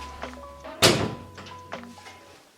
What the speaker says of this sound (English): Here's the door. It works, you know.